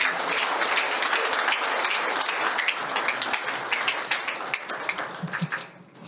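A church congregation breaks into loud, dense applause that carries on steadily and close for several seconds, then thins out and fades toward the end.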